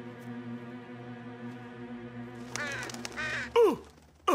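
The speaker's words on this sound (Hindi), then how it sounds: "अच्छा, एक कौवा था।" A cartoon crow caws out twice in harsh, loud calls near the end, following a sustained musical backdrop and other sound effects in an animated Hindi-dubbed children's show.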